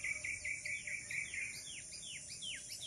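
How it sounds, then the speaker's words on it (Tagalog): Birds singing on a rolling farm property, a clear steady stream of high chirps and swooping tweets over a constant insect drone, fairly faint and outdoors. "Masaya ang mga ibon"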